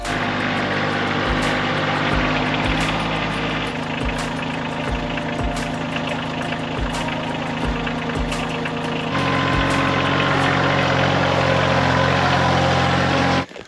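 A steady, rumbling tractor engine idles continuously at close range on a farm, with rhythmic low knocking and a brief drop in level just before it cuts off.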